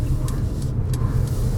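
A Mercedes EQA 250 electric SUV accelerates hard through a left turn at night. A dense, low road and motor rumble holds steady, with faint higher swishes recurring over it.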